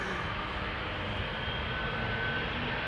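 A 20-year-old KLM Boeing 777-200 jet departs Amsterdam Schiphol Airport, giving a steady, loud, broadband engine roar that holds evenly from start to end with no voices on top.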